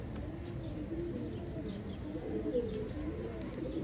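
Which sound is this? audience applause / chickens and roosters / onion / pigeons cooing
pigeons cooing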